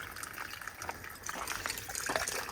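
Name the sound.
water running at campsite washing area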